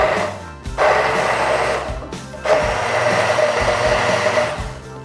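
A Blackline 8222 800-watt immersion blender whirs loudly as it blends fruit, running in two sustained bursts with a brief pause between, close and steady, with no voices.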